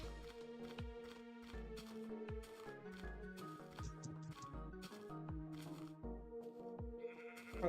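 Sheep bleating in Minecraft Indev is heard as repeated short, pitched calls over a busy layer of game sounds and percussive thumps that run steadily throughout at moderate level, with no voices.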